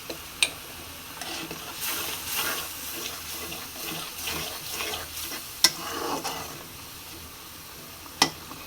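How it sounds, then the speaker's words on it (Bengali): Shrimp being sautéed in a pan with turmeric and chili powder, giving soft stirring scrapes and a faint sizzle, with a few sharp clinks of a spoon on the pan. "একটু ভালো করে কষাবো।"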